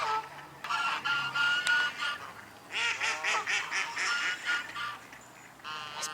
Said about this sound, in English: These birds have been making such a noise.